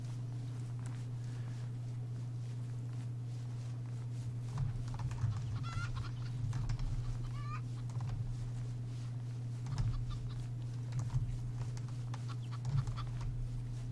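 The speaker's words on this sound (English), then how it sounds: "Just chickens." Video game chickens cluck and squawk intermittently over a steady low hum, the birds sounding moderately close in short scattered bursts.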